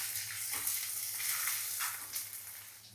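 Chopped ginger, garlic, green chili and coconut slices fry in a pan with a soft, steady sizzle and quiet bursts of scraping as they are stirred. No voices are heard.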